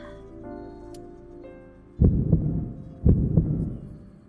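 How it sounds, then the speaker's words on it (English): Heartbeat sound effect in the video game AI: The Somnium Files, a double thump heard twice, loud and deep, rising over a quiet held musical drone. "That's the "this is important" heartbeat."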